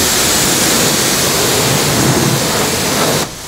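Pressure washer blasting warm water onto a Mazda Miata engine from some distance, a loud steady broadband hiss that cuts abruptly to quieter background near the end.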